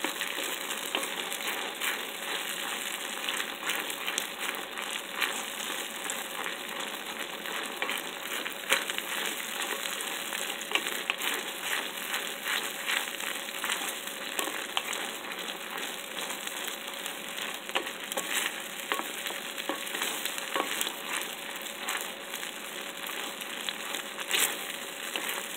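Garlic and chili sizzle steadily in hot oil for homemade chili oil, a continuous bright crackling hiss with occasional stirring scrapes, close and even throughout with no talking.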